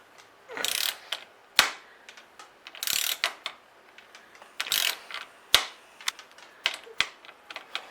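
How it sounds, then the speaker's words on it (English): A new Stanley ratchet wrench turning while nutserts are installed on a 2018 Can-Am Maverick Trail door, close bursts of rapid clicking with short pauses and sharp knocks between strokes, no voices. "I had a ratchet, and this is a brand new ratchet."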